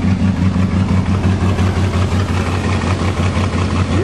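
A 1976 Chrysler New Yorker with a 400 big block V8 runs steadily after a deep-snow cold start, a loud, close, even rumble with no exhaust outlet.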